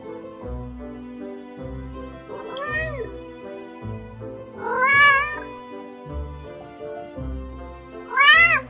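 A cat meows several times, rising and falling calls spaced a few seconds apart, over a steady low musical background.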